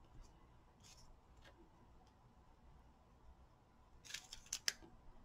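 Scissors snip through card paper in a few quick, close cuts near the end, after a quiet stretch of faint room noise during a Stampin' Up card-making project.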